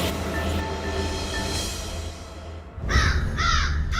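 A crow caws several times, loud and close, in a few harsh calls near the end after a stretch of low background rumble.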